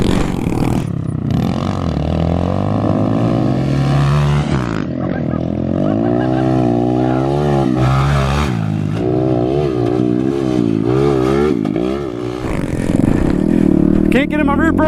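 Honda Grom minibikes racing on a motocross track, with a small engine revving and shifting pitch up and down through the run, loud and close, under occasional rider talk.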